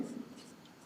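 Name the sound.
writing an entry by hand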